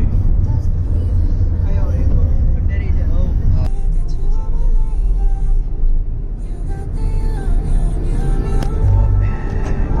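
Heavy road traffic in Mumbai: a dense, continuous low rumble of cars, buses and engines close by, with occasional air-brake hisses and passing vehicles, all steady and loud for the whole stretch.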